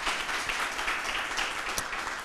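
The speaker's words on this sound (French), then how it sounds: "ça peut s'applaudir très très fort." A youth audience at a public debate event applauds, a short, loud, steady wash of clapping from many hands.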